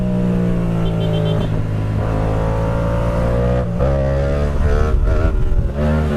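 A Yamaha MT-07 motorcycle engine revs hard and loud at close range, sustained throttle with harmonic engine tones that rise and fall through several surges, no talking.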